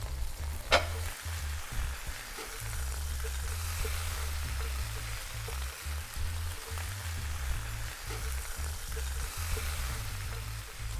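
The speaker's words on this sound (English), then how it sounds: "So our lamb is seared." Lamb chops sear in a pan, giving off a steady, close sizzle over a low hum, with one sharp click near the start and no talking.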